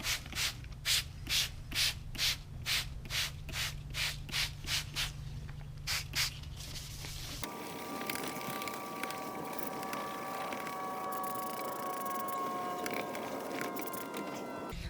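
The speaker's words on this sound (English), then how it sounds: "you want to keep on sanding, keep on cleaning until no more of this stuff comes off" A plastic headlight lens is sanded by hand in about a dozen quick, rhythmic rasping strokes, close and distinct. A steadier rubbing wash of sound follows and continues to the end.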